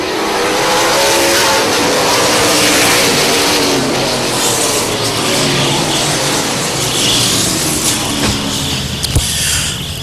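Race cars on a short track just after the green flag: a loud, continuous roar of several engines revving and passing, with a distant, washed-out quality and no clear talk.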